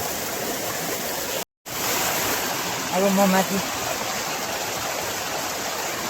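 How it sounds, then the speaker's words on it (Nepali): A small waterfall pours over rocks into a pit, giving a steady, close rushing roar of water with a brief dropout, while someone speaks over it. "ढुङ्गादेखि छ गएर त्यहाँबाट यसरी खाडो झरेपछि झरना भयो है।"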